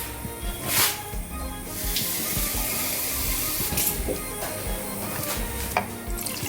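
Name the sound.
running water from tap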